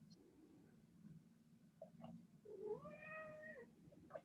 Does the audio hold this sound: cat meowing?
yes